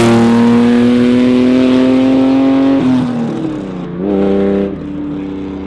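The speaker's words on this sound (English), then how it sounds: "we've got first-hand experience of just how wonderful that high-revving VTEC V6 can sound" High-revving all-aluminium VTEC V6 engine screaming loudly and steadily, pitch rising then dipping briefly as it shifts, close and alone with no talk.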